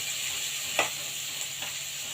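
Fish, green chilies, onion and garlic fry in hot oil with a steady, even sizzle and a couple of soft stirring scrapes, close and alone without talk.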